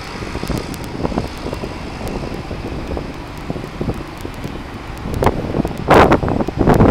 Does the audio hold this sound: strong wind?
yes